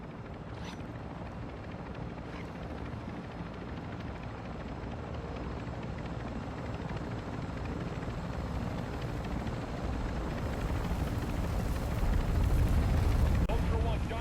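The exfil helicopter in the Call of Duty DMZ video game arrives as a steady rotor roar that grows gradually louder and closer over about fourteen seconds. A radio voice speaks over it.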